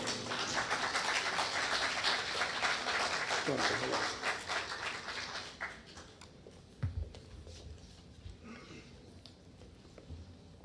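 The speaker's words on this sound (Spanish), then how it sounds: "recibamos con un voto de aplauso" Audience at a formal lecture welcoming the speaker, Dr. Julio César Castiglioni, with applause: fairly faint, steady clapping for about six seconds that gradually fades into scattered claps and room noise, with some talking heard.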